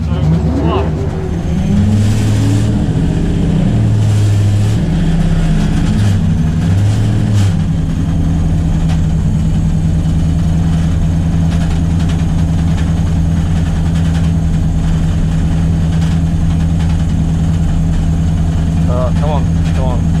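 Ford XF Falcon race car engine at a racing revival event, a loud close engine roar with rising and falling revs through gear shifts early on, then settling into a steady heavy drone.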